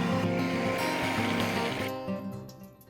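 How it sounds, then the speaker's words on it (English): A loud, steady rush of boiling water pouring and splashing over chicken wings on a rack, close by, tapering off toward the end. "pour boiling water over one half of them"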